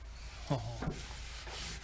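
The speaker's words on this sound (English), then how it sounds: "Give it a good rub. You can't rub enough." Material rubbed by hand onto the edges of lettering on a 1967 Gitchner military tool work trailer: a few soft, quiet scuffing strokes close by, with low background hum.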